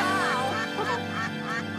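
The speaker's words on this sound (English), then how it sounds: "Why is it quacking?" Cartoon-style duck quacking repeats in a few wavering calls over a steady, tonal background in a children's animated show.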